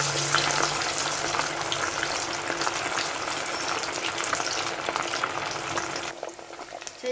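Fish pieces coated in gram flour batter frying in hot oil, a loud, steady, close bubbling sizzle that carries on unbroken and eases slightly near the end, with no talking.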